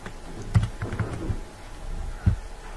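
Computer keyboard being typed on while entering a captcha, a few soft, scattered keystrokes close by with short gaps between them.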